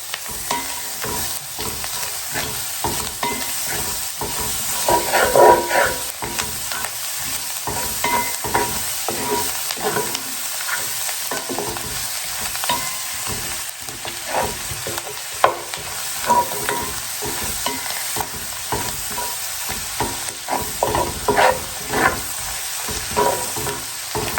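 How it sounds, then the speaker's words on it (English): Butter melts and sizzles in a hot pan on the stove, a continuous loud crackling fry with scraping stir sounds throughout and no voices. "I'm going to let that butter melt, which won't take very long because this pan is hot."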